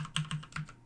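Quick run of keystrokes on a computer keyboard while entering Cisco ASA interface settings, about five close, crisp clicks in an uneven rhythm, with no talking.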